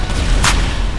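A single sharp explosive burst from a grenade in a parkour video game, loud and brief over a low rumbling background.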